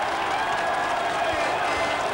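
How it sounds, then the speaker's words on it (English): A rugby league crowd roars after a Workington Town try in a 1992-93 match, a sustained, evenly loud wash of cheering and clapping with no clear gaps. "And listen to the crowd."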